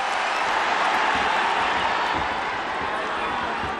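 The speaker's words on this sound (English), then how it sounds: "but the crowd have responded" A dense boxing arena crowd roars at the Inoue vs Donaire fight, a loud steady wash of cheering and shouting that holds throughout.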